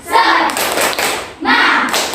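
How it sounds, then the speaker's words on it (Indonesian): A school class performs the rhythmic group 'tepuk semangat' clap, two loud bursts of many hands clapping together with a short pause between them, close and filling the room. "ayo sama-sama kita tepuk semangat dulu ya"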